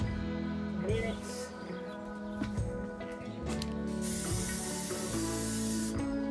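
An aerosol can sprays adhesive while the rear columns of a camper van are upholstered, with a close hiss that swells into a strong sustained spray, mixed with some faint mechanical clicks.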